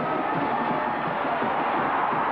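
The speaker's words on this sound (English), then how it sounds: "their fans are here screaming today" Clemson fans scream and cheer in a dense, steady crowd roar at a 1981 college football game at North Carolina, a broad wash of voices filling the stadium for the whole stretch with no single voice standing out.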